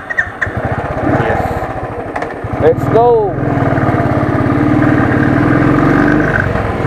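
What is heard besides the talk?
Royal Enfield Thunderbird motorcycle engine running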